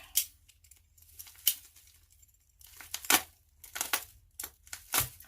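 A small knife blade scrapes and rips through packing tape in several sharp, uneven bursts, separated by quiet pauses. The sound is close by and has no talking over it.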